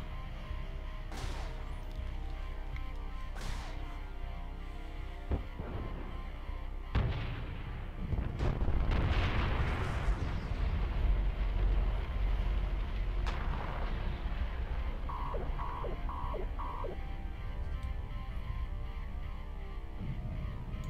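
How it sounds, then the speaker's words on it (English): Spaceship explosion nearby in EVE Online, heavy booming blasts and crackling impacts rolling through a low ambient drone, several sharp hits scattered across the passage with a longer swelling burst in the middle. "You've taken damage from the nearby explosion."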